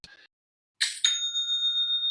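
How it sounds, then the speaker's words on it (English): A Shopify new-sale notification chime sounds as a soft click, then a bright bell-like ding that rings on with a clear, slowly fading tone. No talking is heard over it. "That's the sound of another sale on Shopify."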